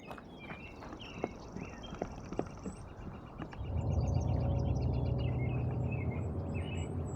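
Horse hooves clip-clop in the game Through The Woods as scattered distinct clops among chirping birds, followed by a louder steady rushing ambience in the latter half, with no talking.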